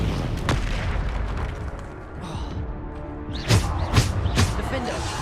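Bombarda spell blasts in Hogwarts Legacy combat land as sharp, booming impacts, two or three close together near the end, amid ongoing battle noise while a voice calls out spell names.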